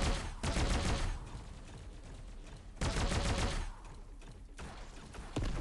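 A combat mortar fires in the robot combat game Bot Machines, loud bursts of rapid, rattling gunfire in long sustained volleys separated by brief quieter stretches.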